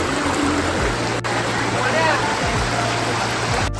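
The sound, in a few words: waterfall and stream water in Khopoli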